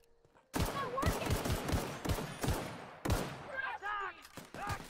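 Rapid bursts of machine gun fire in The Outer Worlds Spacer's Choice Edit, loud and close, rattling in two long strings with short gaps, while a voice talks between and over the shots.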